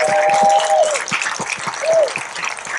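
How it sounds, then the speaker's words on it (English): A brief round of applause for Susan at a Women Veterans' Appreciation Day ceremony, close crowd clapping with a couple of whistle-like tones over it, cut short at the end. "we want to give a round of applause to Susan"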